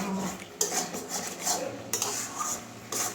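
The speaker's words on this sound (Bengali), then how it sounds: "ঢাকনা খুলে একটু নাড়িয়ে দিতে হবে" A pot lid is lifted and a spoon stirs milk gourd curry, with metallic clanks and scraping against the pan repeating every second or so over a soft background hiss.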